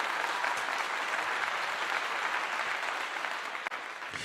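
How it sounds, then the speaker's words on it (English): A crowd claps and applauds in a continuous dense wash of sound, moderately loud and even throughout, with a brief dip near the end. "Let's give him a clap on that."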